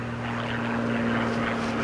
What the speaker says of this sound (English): The propeller is a constant speed Hartzell propeller.